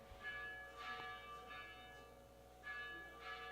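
A church bell rings out during a New Year's Eve service, with two or three resonant strikes sustaining and decaying into quiet room tone, faint and distant.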